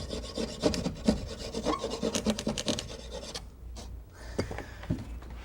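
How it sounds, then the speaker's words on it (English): Wall material being cut along a template with a hand tool during a residential retrofit, close, uneven rasping and scraping strokes followed by a quieter gap and a few scattered scrapes, with no talk. "Now, cutting any kind of wall material will always make a mess"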